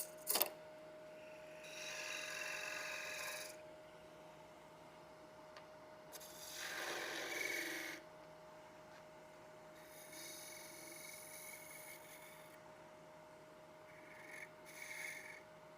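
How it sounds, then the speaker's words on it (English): Detail gouge cutting on a wood lathe during a box-turning demonstration, giving several separate rasping, scraping passes of a few seconds each with pauses between, at moderate level close by, with no talking. "just switching from a standard to a detail gouge so I can get in there a little bit better"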